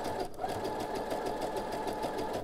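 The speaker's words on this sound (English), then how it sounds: "And then I'm going to sew a little bit beyond this" A sewing machine runs continuously while stitching fabric for a pair of boxer briefs, its fast, even needle clatter close and steady throughout, with a brief dip near the start.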